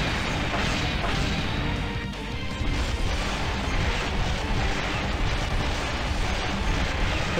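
In the Metal Slug 5 video game, the boss Screamer blasts buildings apart with a sonic cannon, giving a loud, continuous wall of crashing, booming destruction that never lets up, with no one speaking.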